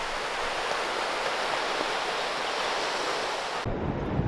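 Ocean waves on a beach in Goa, near Mandrem, Ashwem and Morjim, wash in as a steady, broad surf roar mixed with wind buffeting the microphone, then cut abruptly to a different, rumblier wind noise near the end.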